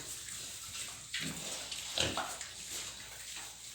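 Piglets on a farm grunting and snuffling in short bursts, one louder squeal-like grunt standing out midway, fairly close against a faint background hiss.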